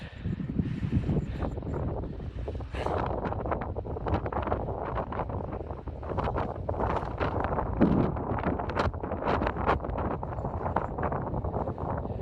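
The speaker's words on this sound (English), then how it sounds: "A little windy up here" Wind buffets the microphone in irregular gusts on a hike above Lake Superior, a low rumbling roar with brief thumps, no one speaking.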